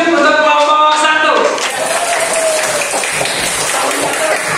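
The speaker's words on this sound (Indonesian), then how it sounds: "silakan beri tepuk tangan dulu untuk kelompok 1" Pupils in a classroom clap for group 1, with a burst of bright, close applause following a teacher's voice that fades into the start of the clapping.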